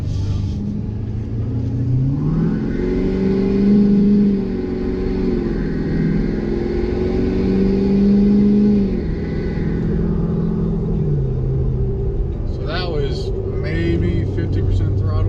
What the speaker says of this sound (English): Sounds good though when you're on it